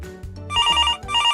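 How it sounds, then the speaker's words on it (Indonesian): Electronic telephone ring with a repeating warbling two-tone pattern, loud and close, over a soft music bed. "ketika kita merespon atau mengangkat telepon kita ketika telepon kita berbunyi"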